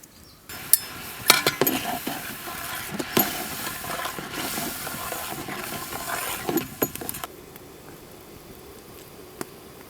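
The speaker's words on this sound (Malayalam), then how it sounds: "തിളയ്ക്കാൻ തുടങ്ങിയിട്ടുണ്ട്." Liquid coming to a boil in a pan for a plum cake fruit mix gives off a steady hiss and bubbling, dotted with small clinks, then turns quieter near the end.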